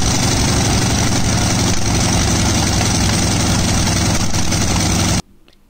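Antonov An-2 biplane's ASH-62 radial engine running at a loud, steady, close-up drone with a rough throbbing pulse, cutting off abruptly near the end.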